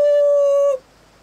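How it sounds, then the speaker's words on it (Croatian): A ferry horn near a lighthouse terrace gives one long, loud, steady blast with a strong low tone and bright overtones, lasting under a second before it cuts off into quiet. "Ali sirena trajekta prekine ih u slušanju."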